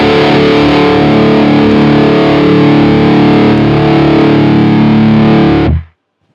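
A heavily distorted electric guitar plays through a Quad Cortex amp model, a loud, bright, sustained wall of chords that rings steadily and then cuts off abruptly near the end.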